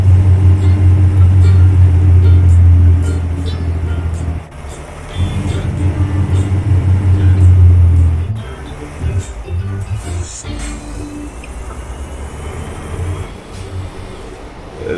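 A heavy truck engine in Euro Truck Simulator 2 drones steadily with low rumbling, easing off briefly, then resuming before fading into a rougher, uneven idle.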